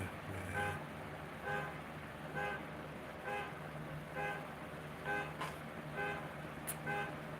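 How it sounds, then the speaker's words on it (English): A car horn sounds again and again in short, evenly spaced toots, about a dozen in steady rhythm, at moderate loudness over a low background hum. "Car horn."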